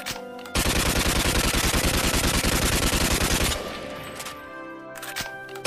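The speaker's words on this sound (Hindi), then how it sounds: "चलो सब हवाई फायरिंग करो।" Celebratory gunfire into the air in the video game Free Fire rings out as a loud, rapid sustained automatic burst lasting about three seconds, then fades to softer scattered shots and background game sound.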